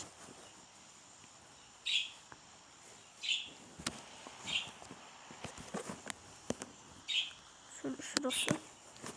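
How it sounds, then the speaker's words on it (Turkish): A pet budgerigar gives several short, bright chirps at spaced intervals, fairly close, with soft clicks and shuffling sounds in between. "Böyle kuş sesi falan duyarsanız hiç sıkıntı etmeyin. Benim kuş bağırıyor."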